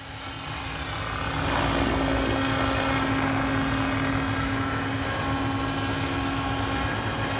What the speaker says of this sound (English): now bringing the helicopter back to us.